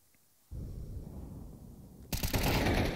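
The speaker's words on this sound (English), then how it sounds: "Falcons are shooting hard." Gunfire in a Counter-Strike match at IEM Katowice 2025 bursts in loudly, with rapid overlapping shots dense enough to read as an automatic-weapon exchange. A softer stretch of in-game noise comes first.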